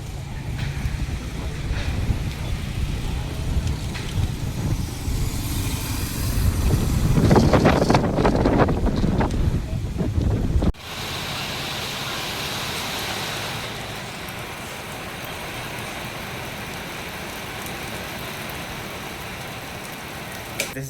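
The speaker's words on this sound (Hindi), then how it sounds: "सैंडस्टॉर्म और हल्की हल्की बारिश आ रही है।" Sandstorm wind buffets loudly at night with light rain beginning, a roaring gusty rush that swells and then drops to a steadier hiss of wind and patter.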